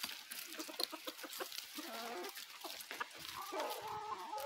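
Embrapa hens on a small Brazilian farm cluck and chatter close by, a busy overlapping series of short clucks and squawks with no talk over them.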